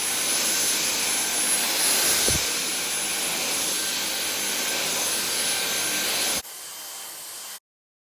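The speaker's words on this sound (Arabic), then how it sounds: "فيديو عن مميزات وعيوب المكنسة بتاع دايسون" A Dyson vacuum cleaner running with a loud, steady high-pitched whine and airflow roar, a brief bump midway, then dropping to a quieter tone before cutting out.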